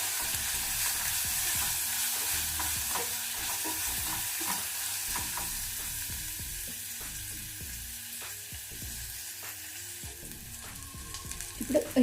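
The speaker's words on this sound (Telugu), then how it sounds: "కొంచెం కరివేపాకు, ఇందులో ఒక 1/2 టీ స్పూన్ పసుపు వేసి కొంచెం ఉల్లిపాయలు కొంచెం వేయించుకోవాలి" Onions with curry leaves and half a teaspoon of turmeric fry steadily in a pan, a continuous close sizzle broken by frequent scraping stirs of a spatula throughout, with no talk.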